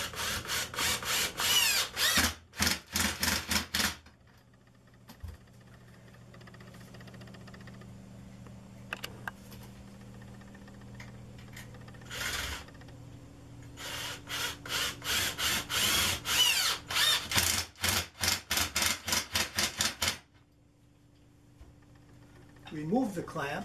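A number 8 wood screw, 2.5 inches long, driven into a pre-drilled hole in a cabinet: bursts of loud, rapid grinding from a power driver, broken by quieter pauses with low background hum.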